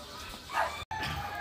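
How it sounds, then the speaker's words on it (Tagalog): Two pet dogs barking, heard as a single faint, brief bark well in the background of a quiet room. "Yung dalawang aso ko nandyan kasi alis kami."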